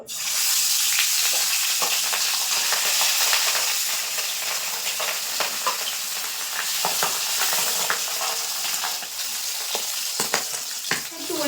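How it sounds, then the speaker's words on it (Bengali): Pangas fish pieces sizzle and crackle loudly in hot oil in a wok, a continuous dense frying hiss with scattered pops, no voices. "কড়াইতে কিন্তু তেল দিয়ে দিয়েছি মাছ ভাজার জন্য"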